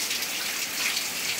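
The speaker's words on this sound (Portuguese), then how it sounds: "a chuva tá aí, ó, continuando" Steady rain falling in Palestina, Santana das Garrotas, in Brazil's Nordeste, a dense, even hiss close by with no voices.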